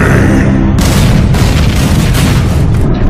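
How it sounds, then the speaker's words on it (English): Huge explosion sound effect in a mock Michael Bay movie trailer, a loud deep boom with rumbling blasts and crackling debris, sustained and very loud for the full few seconds. "In a world where giant explosions happen for no reason."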